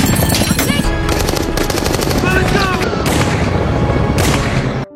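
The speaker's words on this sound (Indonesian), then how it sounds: "Kolonel melihatnya dan langsung keluar menembaki mereka." Loud, sustained machine-gun fire from an action film scene, where a colonel shoots at people escaping in an aircraft. Dense rapid bursts go on almost the whole time, cut by a few brief pauses.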